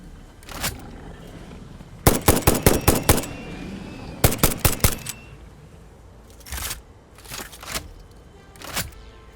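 Gunfire aimed at an alpha biter in the factory-building game Satisfactory: sharp single shots, then two tight rapid bursts of about six cracks each, followed by a few more spaced shots, loud and close with no talking.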